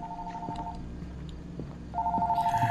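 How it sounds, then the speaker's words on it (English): A phone rings in the horror video game Fears to Fathom, with short repeated electronic tones early on and a louder, steady pulsing ring in the final second, close and clear. "My phone's ringing."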